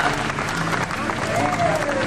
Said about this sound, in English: Hey, keep your hands clapping